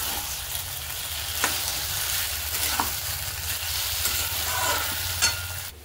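Food, with soaked sago added, is stirred in a frying pan under a constant close sizzle, with scraping strokes and soft clacks of the spoon every second or so.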